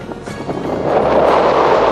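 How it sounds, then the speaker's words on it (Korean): Wind sweeps across the middle of the Gobi desert in Mongolia as a steady, loud, broadband rush that builds over two seconds and then holds. "하늘을 스치는 바람소리가 가득한 사막의 한가운데"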